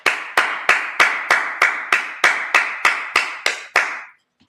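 Eleven sharp claps from a congregation at a Sabbath service land in a slow, even rhythm, each one a crisp burst with a short ring-out, loud and close, then silence.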